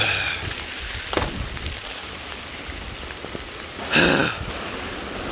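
Steady outdoor rain patters continuously on surfaces near a garden with plants, a dense even hiss broken by a couple of louder splashes and drips, with no voices.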